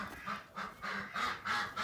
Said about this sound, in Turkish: Ya şu ördekler de var ya.